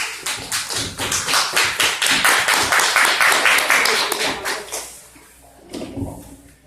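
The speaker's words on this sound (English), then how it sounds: "Give her a nice round of applause." An audience at a community association general meeting breaks into a burst of close, uneven applause lasting about five seconds, then it stops and a few faint sounds and voices follow in the room.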